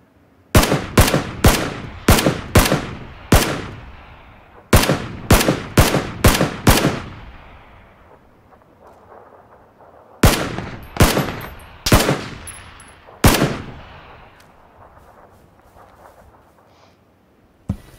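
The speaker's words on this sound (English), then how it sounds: "That's what covering fire can do." Covering gunfire in the video game PlayerUnknown's Battlegrounds: loud, close rifle shots in rapid bursts of several rounds, each group ending with a decaying echo, then a pause before another burst.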